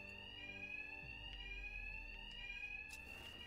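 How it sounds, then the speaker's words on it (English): A bank alarm in the video game Batman: Arkham Knight rings continuously, a steady high electronic tone with faint rhythmic pulses over a low rumble. "these thugs can't hear a thing over the alarms"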